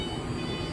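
A BART Fleet of the Future Blue Line train departs a platform, giving a steady, moderately loud rumbling rail noise with a faint high whine above it throughout the short stretch.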